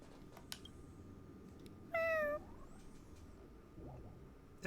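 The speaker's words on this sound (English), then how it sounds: "It's a cat." A single clear meow from a cat in the Honkai: Star Rail video game rises briefly over a quiet ambient background, mid-distance and fairly distinct.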